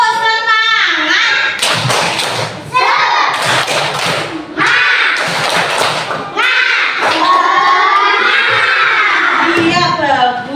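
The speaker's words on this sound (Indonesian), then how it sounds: "kita tepuk semangat terlebih dahulu" A classroom of children does a rhythmic spirit clap chant, loud unison clapping in patterned bursts mixed with chanted voices, a teacher's voice leading between rounds.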